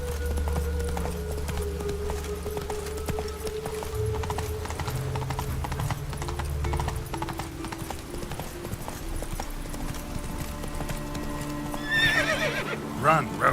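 In The Witcher 3, a horse gallops with rapid, steady hoofbeats while a voice urges it on. A loud whinny breaks out near the end over a constant game soundscape.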